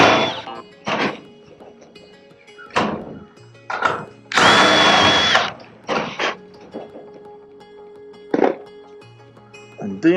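A screw is driven through a metal roofing panel on a pole barn roof, with one loud sustained whine from the driver, scattered knocks and thunks around it, and brief talk in between.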